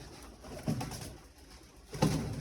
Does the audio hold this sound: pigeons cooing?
yes